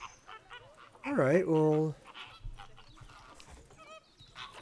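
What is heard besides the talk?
flamingos honking in video game Planet Zoo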